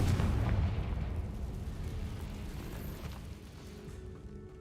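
Confringo blast spell from Hogwarts Legacy, a heavy booming explosion that hits at the start and rumbles away over several seconds.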